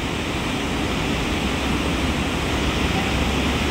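Floodwater roars beneath a bridge, a loud, steady broadband rush that stays constant throughout with no pauses or talk.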